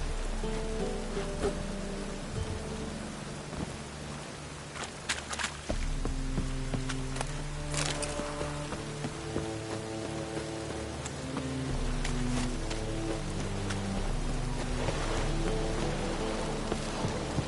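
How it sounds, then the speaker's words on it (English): Rain falls in The Witcher 3 video game as a continuous soft patter with scattered drops, under sustained background music tones. "Looks like rain."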